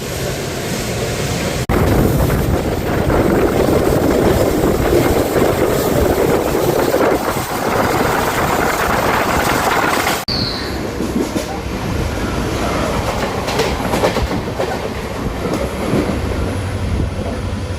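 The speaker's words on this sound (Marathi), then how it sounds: "मित्रांनो, आम्ही ओव्हरटेक करताय एक लोकल ट्रेनला." A diesel-hauled CSMT–Dhule express rumbles loudly past a local train near Mumbai's Curry Road, with dense continuous wheel and carriage roar, a sharp rush as the trains pass, then steadier running noise.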